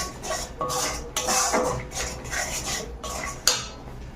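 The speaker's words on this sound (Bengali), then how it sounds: "চলো এবার মশলাটা ভালো করে কষিয়ে নিয়ে তারপর করছি" Masala paste for a vegetarian Bengali bean and potato dish is stirred and fried in a pan, a ladle scraping and clinking against the metal in repeated close strokes over a soft sizzle, without speech.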